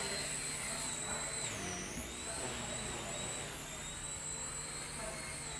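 A Walkera Genius CP flybarless 6-channel RC helicopter in flight gives a constant high whine with a shifting pitch, steady and moderately loud throughout, with no speech heard over it.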